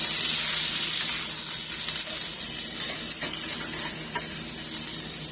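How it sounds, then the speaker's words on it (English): Seasoned beef cubes and cabbage fry in a pan with a steady, bright hiss of sizzling, while a spoon stirs through them with faint scrapes and knocks. "Give it a stir."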